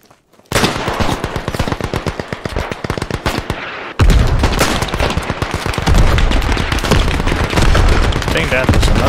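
Dense rapid automatic gunfire from a Beyond The Wire multiplayer firefight, with continuous loud bursts that grow heavier and boomier midway through as the shooting keeps going.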